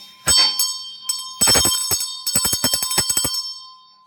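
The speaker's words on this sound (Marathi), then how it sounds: "आमच्याकडे घंटी नाही आमच्याकडे घंटा आहे" A large bell rings inside a home: a few spaced single strikes, then a fast run of many close, loud metallic clangs with a ringing tone that fades at the end.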